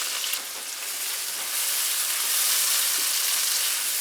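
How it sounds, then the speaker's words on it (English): Diced onion and sliced mushrooms sautéing in a pan over medium heat, a continuous bright sizzle that grows slightly louder, heard close with no talking. "And we're just going to let this saute for a few minutes."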